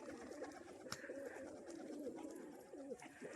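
Pigeons cooing close by, several soft repeated throaty coos in rolling bursts, faint and alone.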